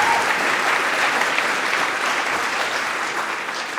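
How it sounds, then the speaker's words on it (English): Dense audience applause fills a conference hall at a Python developer event's lightning talks session, a steady, loud wash of many hands clapping that holds nearly constant and eases only slightly toward the end. "So if we could give Ben a big round of applause,"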